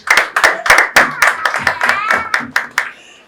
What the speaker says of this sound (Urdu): ان کے لیے تالیاں بجائیں